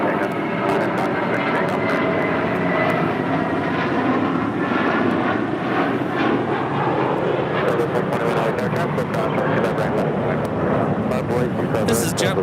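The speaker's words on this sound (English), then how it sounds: "This is JetBlue 1570 taking off to Cancun on an A320." JetBlue Airbus A320 taking off at LAX, a loud sustained engine roar with a broad rumbling wash that swells and holds across the whole stretch, heard from nearby on the airfield.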